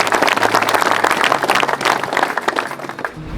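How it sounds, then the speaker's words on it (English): A crowd of motorcycle riders at a charity ride in Christchurch, New Zealand, gives a loud round of applause, dense clapping that fades out near the end. "So again, another round of applause for yourselves."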